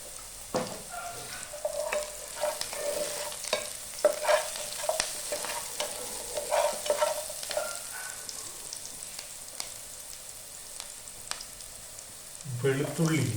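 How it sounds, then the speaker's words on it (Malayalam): Chopped onion sizzles in a hot pan with salt while a spoon stirs and scrapes steadily, with clicks and scrapes recurring over a continuous frying hiss. "ഈ ഉള്ളി വല്ലാണ്ട് മൂത്ത് വരികയൊന്നും വേണ്ട, ഒന്ന് ചൂടായി കിട്ടിയാൽ മതി."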